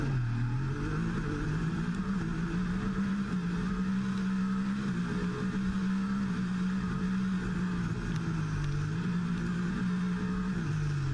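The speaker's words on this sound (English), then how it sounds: "This is the slowest moving F1 car you're gonna ever see in your life." Formula One car engine in the F1 24 racing video game, the car damaged and barely moving on the Las Vegas circuit, a steady droning hum with gentle pitch wavers, continuous and fairly quiet with no talk.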